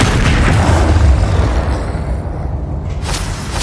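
A fire spell cast in Hogwarts Legacy erupts as a loud, deep boom with a roaring burst that rumbles and slowly fades over a few seconds, with no voices over it.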